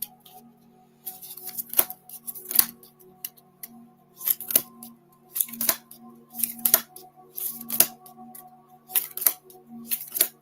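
Tarot cards riffle and snap in repeated bursts as a deck is shuffled up close, with short pauses between each shuffle and a faint hum beneath.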